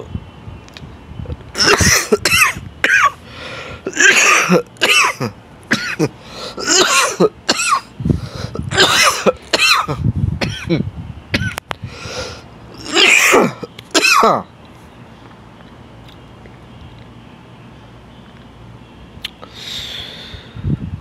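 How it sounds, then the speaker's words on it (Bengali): A person on a rooftop coughs hard in repeated bursts, with harsh, wet, racking coughs and throat clearing close to the listener, then goes quiet near the end. "কাশি যখন উঠে"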